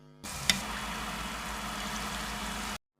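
Something dropped into hot oil, fizzing into a steady, close sizzle of deep frying that holds for a couple of seconds after a brief splash at the start, with no talking.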